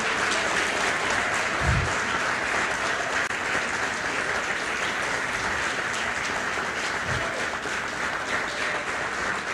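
A church congregation at a Sunday evening finance seminar applauds, a broad continuous roar of many hands clapping together, loud and unbroken, with a couple of dull low thumps.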